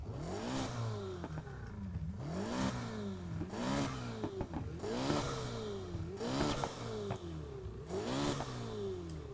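A Ferrari engine in the racing game Need for Speed Heat revs in quick repeated bursts, about six sharp climbs and drops in a regular rhythm, steady and fairly quiet overall, with no one talking.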